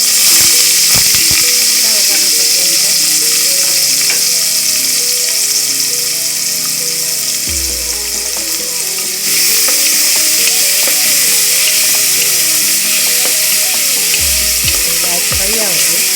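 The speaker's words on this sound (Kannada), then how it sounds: "ಬ್ರೌನ್ ಕಲರ್ ಆಗೋದು, ಅದನ್ನು ಫ್ರೈ ಮಾಡ್ತಾರೆ." Masala frying for a mutton gravy in a pressure cooker pan, a steady bright sizzle running throughout with occasional stirring scrapes and low clatters, close and loud.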